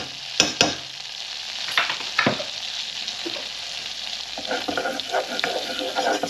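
A tablespoon of plain flour cooks in a frying pan into a roux on not-too-high heat, with a soft steady sizzle and a few sharp utensil clacks against the pan early on.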